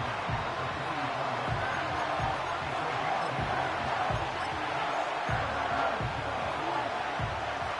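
A football stadium crowd at a Seahawks at Packers game keeps up a steady, dense roar with repeated low thumps, heard at a distance as a continuous wash of noise.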